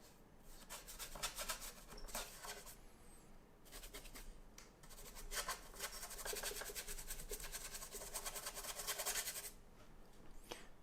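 A paintbrush scrubbing acrylic paint over a canvas in a still life study, making faint, continuous rasping and rubbing strokes in steady bursts with brief pauses between them.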